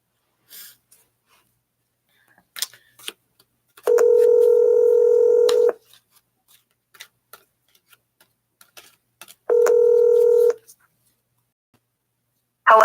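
Two bursts of telephone dialing tones, a longer tone of about two seconds then a shorter one, from a phone being used to call a 250 area code, with faint clicks and handling noises in between.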